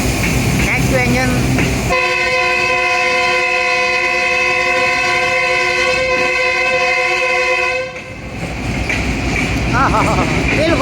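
A train engine rumbles steadily while its horn blares a long, loud, sustained harmonic blast for about six seconds, then cuts off to running noise; a voice talks over the sound at the start and end.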